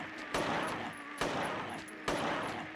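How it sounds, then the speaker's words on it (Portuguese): Gunshots in the video game Silent Hill 3 on PS2: three loud, sharp blasts spaced evenly about a second apart, each followed by a short ringing tail, with no talk. "4 tiros."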